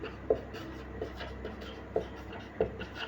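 Notes being handwritten during a circuit breaker class: steady scratching and rubbing of pen on paper, with a few sharper taps, close and moderately quiet.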